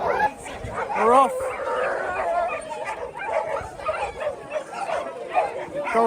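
Several canicross dogs yelp, whine and bark excitedly at the start of a wet trail race, close and overlapping, with people chattering in the background.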